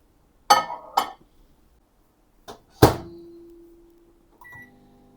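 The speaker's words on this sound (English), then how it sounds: "I'm gonna melt my butter in the microwave as well." A microwave oven melting butter: door clicks and button beeps, then a steady low hum of the oven running, ending in a short chime, all quiet and close with no talk.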